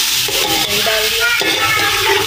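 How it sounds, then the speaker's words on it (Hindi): Masala with yogurt, salt and a little water being stirred and fried in a pot for chicken pilao: loud continuous scraping and sizzling close by, with the spoon rasping against the pot in irregular strokes. "अब इसे अच्छी तरह से भून लेंगे। चलाते रहेंगे, मसाले को नीचे नहीं लगने देना है बिल्कुल भी।"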